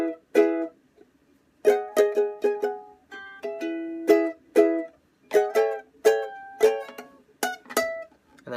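Ukulele plays the SpongeBob SquarePants end theme, mixing strummed chords and plucked melody notes in a bouncy, uneven rhythm with brief pauses, close and fairly quiet, with no voices.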